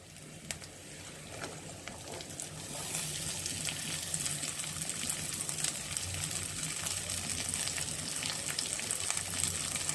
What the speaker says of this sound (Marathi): हे पण आपल्या तेलावर छान फ्राय करून घ्यायचे